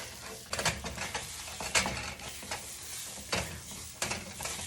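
Egg whites frying in a pan for an arepa scramble, a soft steady sizzle with several quick scraping stirs of a utensil against the pan, fairly quiet and close.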